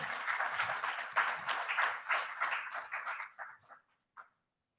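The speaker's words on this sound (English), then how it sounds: "Give me Chantel a round of applause also." Audience applause for a scholarship recipient at a grant and scholarship presentation ceremony, a dense burst of clapping that thins out after about three seconds and ends with a last few scattered claps.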